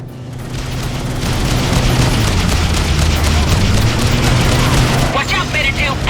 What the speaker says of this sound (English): Why am I being shot from behind by what appears to be another battleship?